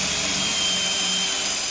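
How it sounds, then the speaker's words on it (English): A Ryobi drill driving a 1/4 bit through material under pressure gives a steady, loud, continuous whine that holds without a break. "here is the Ryobi 1/4 drill bit with pressure"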